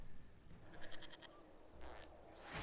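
A goat bleats in a video game: a quick series of wavering, nasal bleats, then a second shorter call, fairly clear over a soft background hum.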